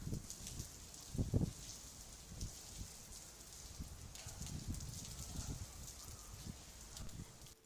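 Steady rainfall hisses continuously, with a few soft thumps and rustles underneath; moderate and close, with no speech.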